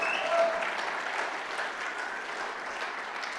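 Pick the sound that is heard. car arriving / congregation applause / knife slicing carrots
congregation applause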